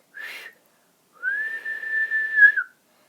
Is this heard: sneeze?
no